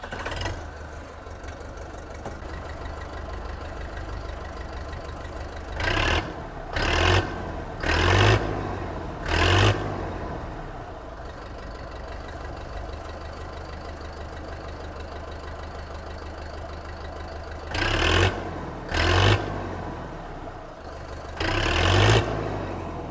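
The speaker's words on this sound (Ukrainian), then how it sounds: "Панель приладів увімкнена, витискаємо щеплення, заводимо." A Deutz Fahr 404 open-cab wheeled tractor's diesel engine idling in a steady low rumble, broken by several loud, short bursts of knocking revs that come in two groups, close and alone without talk.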